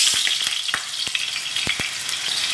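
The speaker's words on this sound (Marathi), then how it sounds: "तेल गरम जालें न्हू आमी पटेटोज फ्राय करूया." Potatoes frying in hot oil with a steady, close hiss, broken by brief sharp pops and crackles spread through the sizzle.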